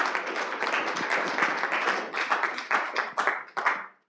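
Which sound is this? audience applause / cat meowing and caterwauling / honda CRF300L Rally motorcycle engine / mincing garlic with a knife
audience applause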